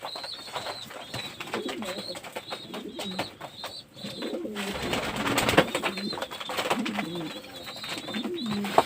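A pair of roughly fifteen-day-old King pigeon squabs from a home loft, with soft cooing and bird calls that come and go over a steady murmur, and a voice talking at times.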